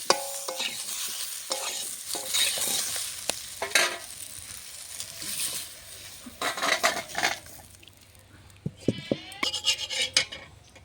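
Potato, eggplant and beans fried in a pan for a Bengali fish curry are stirred and scooped out, with a soft sizzle under scraping and clanking of a metal spatula against the pan.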